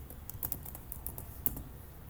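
Keys clatter in short uneven bursts on a computer keyboard, light and close, with one sharper strike near the end and no voices.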